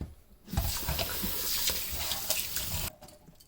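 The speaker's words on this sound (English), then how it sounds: "First, we need to rinse the rice." Running tap water splashing over jasmine rice as it is rinsed in a kitchen, a continuous close gush lasting a few seconds before the flow stops.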